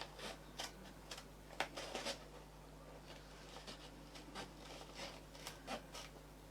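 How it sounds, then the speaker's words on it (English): Serrated scissors snipping through fabric, a series of sharp, quiet, close-up cuts at irregular intervals over a faint background hum. "These scissors are serrated and they catch on the fabric."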